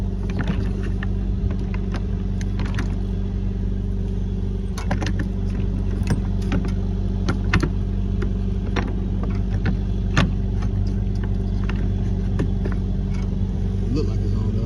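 A 26ft box truck's engine idling, a loud steady low diesel rumble with a constant hum, overlaid by metallic clicks and rattles of a lock being handled nearby.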